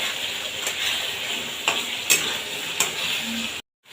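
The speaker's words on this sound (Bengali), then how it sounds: "বেশ ভালোভাবে এটাকে নেড়ে চেড়ে মিশিয়ে নেব" Egg yolk and red spinach mixture stirred in a hot pan, a loud steady sizzle with several crisp spatula clicks and scrapes at irregular intervals, then sudden silence.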